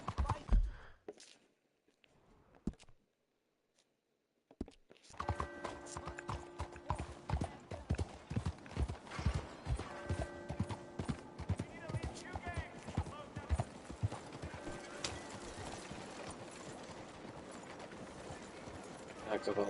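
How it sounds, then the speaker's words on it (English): Horse hooves clip-clop at a steady trotting rhythm in Red Dead Redemption 2 on PS5, running continuously after a short quiet gap at the start, with a faint whinny possible amid the galloping. "Ah, cavalo. Não endoida não,"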